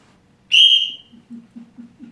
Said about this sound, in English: And I've always got my whistle.